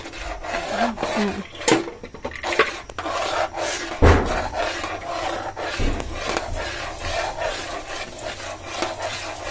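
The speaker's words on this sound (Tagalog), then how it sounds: "Atin muna pong hahaluin, mga kabayabas." Spaghetti stirred in a pot for an afternoon snack, heard as close, irregular rubbing and scraping strokes with a few sharper knocks, alone without talk.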